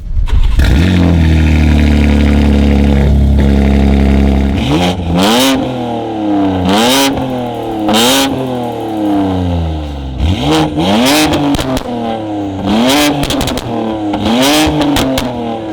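A BMW M3 engine cranks and fires up, settles into a deep idle, then is revved hard several times with rising and falling exhaust roars, loud and close.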